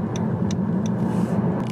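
Steady low road rumble and engine drone of a car heard from inside the cabin while driving, with a few faint ticking clicks over the top.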